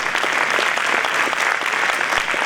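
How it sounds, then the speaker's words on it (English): A school band concert audience gives a loud, dense burst of applause for the saxophone section, a steady wash of clapping that holds at full strength throughout. "Round of applause for the saxes,"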